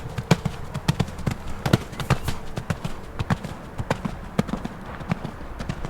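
Hooves of a ridden horse approaching a jump, a steady rhythmic clip-clop of repeated close, crisp hoof strikes throughout, with no talk.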